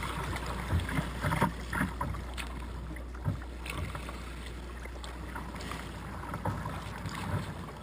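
Sea kayaks paddled across a shipping lane at sea, with a steady low rumble, wind buffeting the microphone and soft, irregular paddle splashes and water sloshing throughout.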